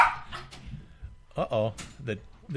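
A dog gives a few short barks and yips amid ongoing conversation, with the voices dominating and the barks brief and close.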